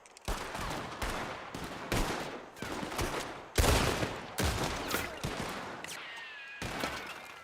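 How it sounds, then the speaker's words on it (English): Gunshots in Red Dead Redemption 2 crack out as a series of sharp reports with ringing tails, some close and loud and others more distant, spaced irregularly across the stretch with no talking over them. "Oh, hear that gun noise? That's cool."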